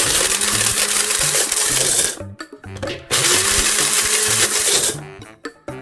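Blender grinding pickled radish jelly, a loud harsh whir that runs steadily for two seconds, stops briefly with rattling, then spins up again for another two seconds before cutting out amid clatter.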